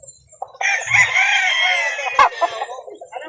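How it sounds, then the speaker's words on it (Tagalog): Chickens and roosters at a poultry sale in Calauan, Laguna: a rooster crows loudly and close for about two seconds, with soft clucks just before and after. "Ang dami naman yung manok."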